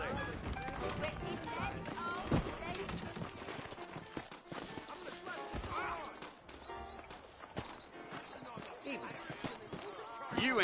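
Horses ride through the Red Dead Redemption video game, with steady clip-clopping hooves running under ongoing conversation and the occasional whinny in the mix.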